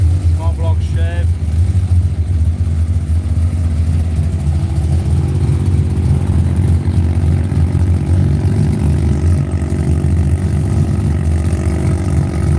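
A small-block Chevrolet engine in a radial drag racing car at an Australian drag strip, a loud, steady low rumble that holds throughout, with a voice speaking over it.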